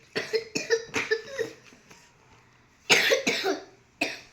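A run of harsh coughs up close, several in quick succession, a short pause, then another burst of coughing.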